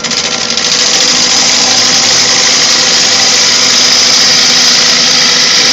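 A lathe running at about 850 rpm for rough turning gives a loud, steady, close droning hum with a dense broadband whir that holds unchanged throughout.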